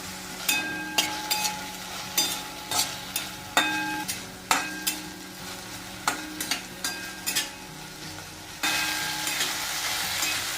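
A pan of onions and spices frying before okra goes in, with steady sizzling broken by repeated clinking stirs and scrapes of a spoon, close up and loud, a sharper burst of hiss near the end.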